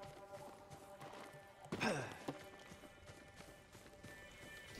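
Horse hooves clip-clop in Ghost of Tsushima, a brief burst of galloping steps near the middle over a steady game ambience, with a possible whinny.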